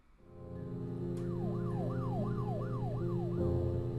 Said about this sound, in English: Ooh, now a police car.